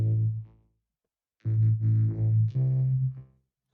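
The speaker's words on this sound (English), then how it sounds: "these bass layers, they sound like this on their own" Thick, distorted synth bass layers from a song production play on their own, a brief sustained note, then a pause, then a longer run of droning low notes that change pitch.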